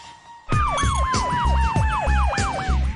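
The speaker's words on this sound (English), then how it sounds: "Tupac is barely conscious as EMS workers load him into the ambulance and rush him to the University Medical Center." Wailing ambulance siren rising and falling in a rapid, repeating yelp, loud and close, with a rumbling engine underneath as EMS workers rush a wounded man to the University Medical Center.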